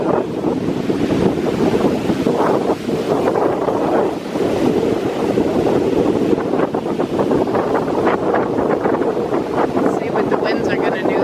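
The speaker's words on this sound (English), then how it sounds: "It is very windy" Strong coastal wind in Belize buffets the microphone with constant roaring, gusty rumble, likely mixed with surf, loud and unbroken throughout.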